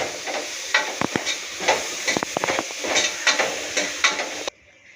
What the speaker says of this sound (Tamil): போட்டுட்டு நல்லா கிண்டி விடுவோம்